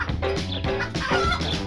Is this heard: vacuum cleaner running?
no